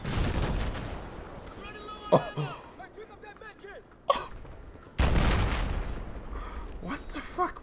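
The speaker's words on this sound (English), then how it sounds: "I shot him with that cannon thing which was there" Sharp, loud blasts from a cannon in the Battlefield 4 video game, several separate booms amid game noise, with people talking over them.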